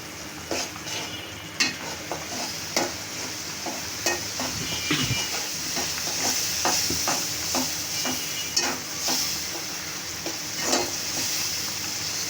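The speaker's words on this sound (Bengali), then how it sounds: "চিংড়ি মাছ আর দুন্দুল একসাথেই কষানো" Shrimp and sponge gourd stirred and sautéed together in a pan: a constant sizzle of frying under repeated clinks and scrapes of a spatula at an uneven pace, close by, with no talking.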